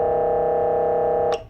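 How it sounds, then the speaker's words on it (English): A loud, steady blaring air horn tone from a Whelen 295SSA1 siren holds for over a second, then cuts off abruptly with a short burst of noise. "You can also change the air horn tone."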